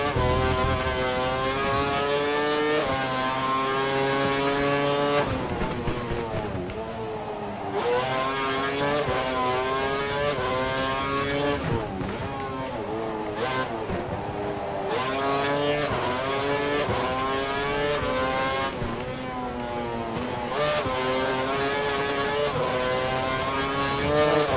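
A Formula 1 car engine screams at high revs during qualifying in Hungary in the F1 2012 video game, pitch rising and dropping steadily with upshifts and braking, loud and alone.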